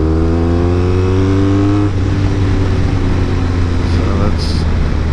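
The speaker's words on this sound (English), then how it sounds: "So let me just get on it a little bit and see if you can hear the engine." A BMW R 1250 RS motorcycle engine accelerating on the road, revs climbing in steady rising tones, then shifting and pulling on under wind noise.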